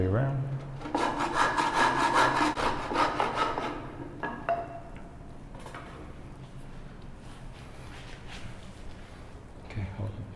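A hand saw cuts into a wooden stool leg with rapid, rhythmic back-and-forth rasping strokes for a few seconds, close by. Then come lighter scraping and tapping sounds, with a voice speaking quietly at times.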